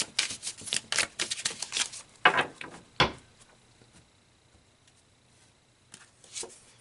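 A tarot card is drawn from a deck, giving a burst of crisp card shuffles and riffles, then a sharp snap, followed by near silence and a faint final rustle.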